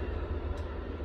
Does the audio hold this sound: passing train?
yes